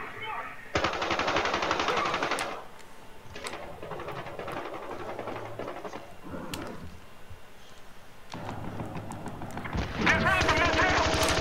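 Automatic weapon fire in the video game Battlefield Hardline, long rapid bursts of close, loud gunshots with short pauses between them and a player talking over parts of it.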